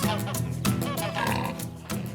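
Pigs on a Scottish farm grunt and oink in a run of low, throaty nasal calls, close by and fairly loud, rising and falling in pitch over a couple of seconds.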